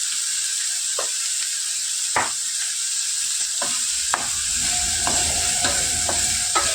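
Spiced samosa filling fries in a pan under a steady, bright sizzle, with a spoon stirring and scraping at regular intervals close by.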